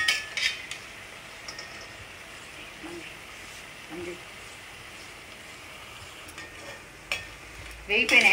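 Peanut pakodis frying in oil, a steady low sizzle with scattered clinks of a metal spoon or slotted ladle against the pan, louder scraping near the end, and a voice talking faintly at times.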